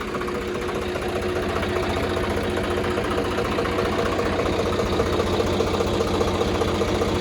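A steady, throbbing diesel tractor engine idles close by, the tractor hitched to two trolleys, its low rhythmic chugging constant throughout with no voices.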